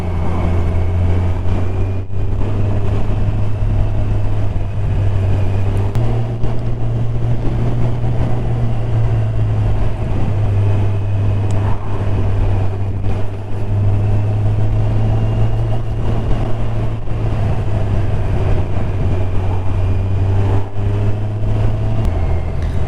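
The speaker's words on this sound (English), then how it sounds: "Finding the engine note very appealing on this bike." A Kawasaki Ninja Z1000SX motorcycle engine while riding, a loud, steady low drone with small shifts in pitch as revs change, mixed with constant wind rush and no voices.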